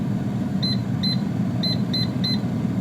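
The control panel of an air fryer beeps as the temperature is set to 170 degrees for plantain. Five short, crisp electronic beeps come in uneven succession over a low steady hum.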